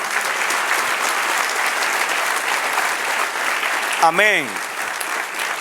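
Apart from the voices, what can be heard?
church congregation applauding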